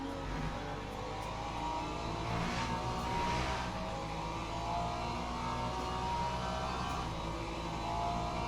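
Ferrari race car engine during an endurance race in Le Mans Ultimate, a steady, loud, continuous drone with a faint rise in revs partway through, heard alone with no talking.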